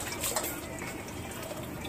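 A pan being rinsed under a running kitchen tap: a steady, close rush of flowing water with slight splashy fluctuations, loud and unbroken throughout.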